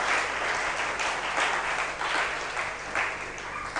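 A church congregation applauds steadily, dense clapping filling the room with gentle swells and no pauses, the applause broad and fairly close.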